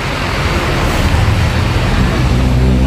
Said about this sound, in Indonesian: di sini ada bis KYM Trans baru keluar Terminal Bubulak Bogor